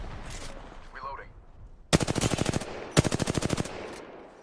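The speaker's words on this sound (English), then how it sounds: "Firing on enemies." Automatic gunfire from the Warhammer 40,000: Inquisitor - Martyr video game rattles out in two sharp rapid bursts after a quieter opening with faint sounds.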